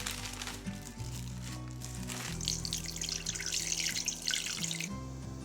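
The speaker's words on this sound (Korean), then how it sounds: "해동을 마쳤다면 속꼬리가 전부 잠기도록 찬물을 붓고 핏물을 뺍니다." Cold tap water runs steadily into a sink or bowl to cover thawed oxtail and draw out blood, a continuous splashing, trickling pour heard up close with no talking.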